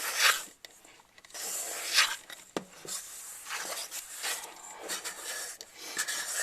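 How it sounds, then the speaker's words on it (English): A utensil scrapes down the sides of a mixing bowl while pizza dough is mixed, making dry, rasping scratches in irregular close strokes with brief pauses in between. "I'm trying to scrape down the sides of the bowl to make sure that I get everything incorporated."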